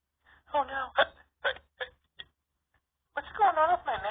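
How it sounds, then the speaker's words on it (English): Short, sharp hiccup bursts repeat at uneven intervals between stretches of talk, close and fairly loud, with voices chatting before and after the hiccups. "Oh, Lenny, you got the hiccups."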